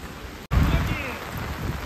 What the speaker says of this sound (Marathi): बाहेर तर पाऊस कोसळतोय